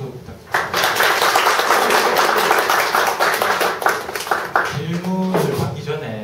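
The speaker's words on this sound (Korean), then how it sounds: "다시 한번 오늘 이제 힐링의 말씀해 주신 원장님께 박수 부탁드립니다" Audience applause after a healing-themed talk at a small mentoring gathering, a dense sustained clapping that runs several seconds, with a voice speaking over it toward the end.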